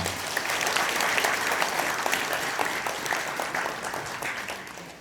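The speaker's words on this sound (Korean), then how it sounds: "내빈 여러분께서는 큰 박수로 맞아주시기 바랍니다" Wedding guests in a hall give a warm round of applause, a continuous patter of many hands clapping that swells early and then slowly tapers toward the end.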